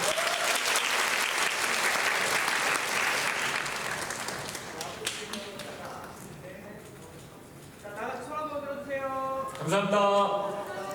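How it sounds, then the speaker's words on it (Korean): Audience applause at a film screening guest visit event at Busan International Film Festival's Busan Cinema Center, a dense crowd clapping that gradually fades, followed by people talking and laughing. "박수 한번 주세요."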